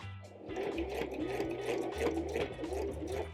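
A sewing machine stitches through denim jeans being upcycled into a maxi skirt, its needle thumping in a quick, steady rhythm with a low motor hum underneath, close and fairly loud with no voices.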